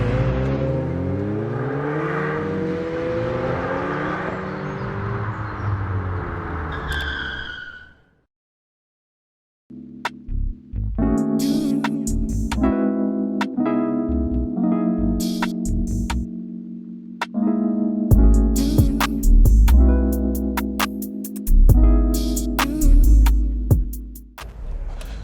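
A 2021 Ford Mustang Mach E, the electric AWD model, gives a rising whir and whine for several seconds before cutting to silence. Sharp, rhythmic, beat-like sounds follow for the rest of the clip.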